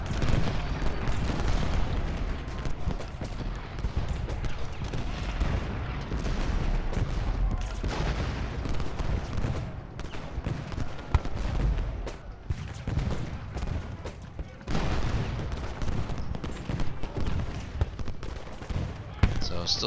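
A Civil War video game battle fills with dense musket volleys, a steady rolling crackle of gunfire with occasional heavier booms. A voice talks at times under the noise.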